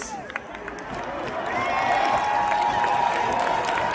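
A big outdoor concert crowd at Knebworth Park cheers and applauds for a guitarist being introduced at a show, a broad roar that swells and holds steady with scattered whoops.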